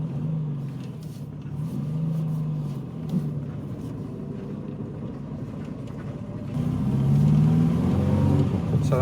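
Running engine of an Austin Maestro barn-find car as it is put into reverse, a loud, close, rough idle and low rumble that rises in a steady rev toward the end.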